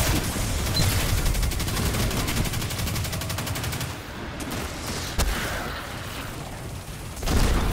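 A gun in Destiny 2 fires in a fast, loud automatic stream, then breaks off into a few separate shots and short pauses.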